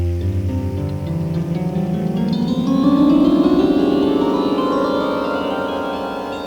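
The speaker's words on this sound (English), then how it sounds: "What happens if you play all of the strings, starting low and going right up to the high notes?" Autoharp strings are strummed in one continuous sweep from the lowest notes up to the highest, a loud, shimmering rising cascade that rings on and slowly fades with no voices.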